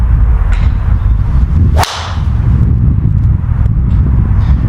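A single sharp, crisp strike of a TaylorMade SIM driver hitting a golf ball, followed by a brief whoosh, over steady loud background noise.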